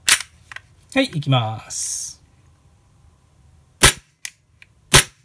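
Carbon8 Striker Neun CO2 gas blowback airsoft pistol dry fired with no BBs loaded: two sharp, loud reports about a second apart with a faint click between, following brief talk.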